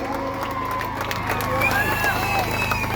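Crowd at a bullock cart race cheers and claps in a steady, loud wash of noise, with an announcer's voice carrying over the din.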